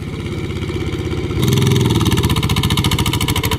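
An engine revs hard in second gear on a modified vehicle fitted with a new camshaft, droning steadily before jumping to a louder, rougher pulsing roar halfway through, close and continuous with no talk.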